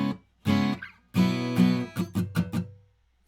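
An electric guitar plays a short section of a song: two sustained chords are followed by a quick down-up run of muted, percussive chickas. It is played alone, close and fairly loud, and ends in silence.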